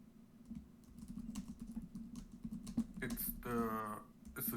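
Rapid clicking on a computer keyboard during a live developer chat, a close, steady stream of key taps over a low hum, with a brief voice breaking in near the end.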